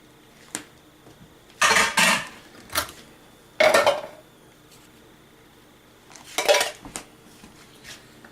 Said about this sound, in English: Now let's add our black-eyed peas.